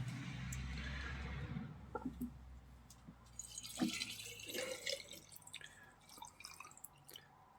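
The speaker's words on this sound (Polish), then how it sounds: "I teraz zalewamy to wodą" Water is poured into a jar packed with crushed willow twigs to make a homemade rooting solution, a close gush at first that gives way to scattered drips and trickles, with no talking.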